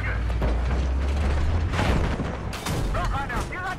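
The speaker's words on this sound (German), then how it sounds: "So, jetzt kommt Panzer." Battlefield 4 game audio with a tank approaching: heavy rumbling mechanical clanks and booms fill the scene loudly and steadily, with a burst of gunfire, while a voice talks briefly over the din.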